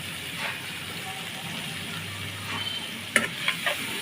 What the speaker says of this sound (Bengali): দিয়ে ভালোভাবে নেড়ে চেড়ে মিশিয়ে নেব